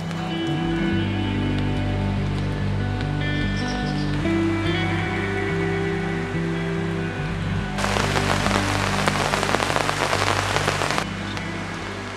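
Steady rain patters over background music, growing into a louder, denser downpour for a few seconds before easing, at a bushcraft campsite beside a spring and a flooded river.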